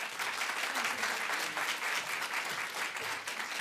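Audience applause welcoming a speaker at a morning education talk: dense, steady clapping from a large crowd that fills the whole stretch evenly, with no break or fade.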